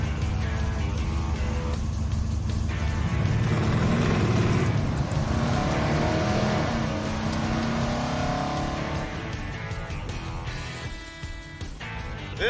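A 1969 Chevy Suburban on a dirt road, its engine rumbling steadily from inside the cab with gravelly road noise and bumps, fairly loud and continuous, easing slightly toward the end.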